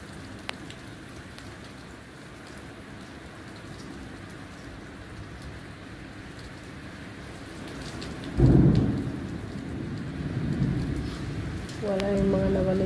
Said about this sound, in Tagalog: Guys, lakas ng ulan.